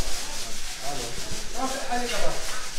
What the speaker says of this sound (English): These guys are still working on sanding and the mud and tape